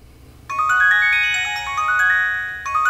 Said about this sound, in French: le son des messages, ça ressemble à quoi?